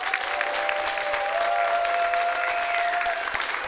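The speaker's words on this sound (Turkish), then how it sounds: "Hazır böyle alkışlarla ayaktayken" A television studio audience gives a standing ovation, dense and sustained clapping at a steady level with no talk over it.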